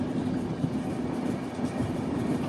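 The Vivek Express rumbles slowly along tracks near the Bangladesh border, a steady, dense low roar of wheels and carriages heard from inside the moving train, with no talk.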